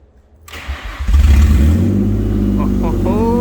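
A Ford Mondeo ST200 engine cranks and catches, then settles into a steady, smooth idle close by. A voice can be heard speaking near the end.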